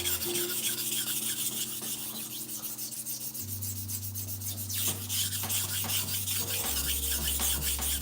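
A knife blade rubs on a sharpening stone in continuous back-and-forth grinding strokes, close and loud, with steady low tones humming underneath and no talking.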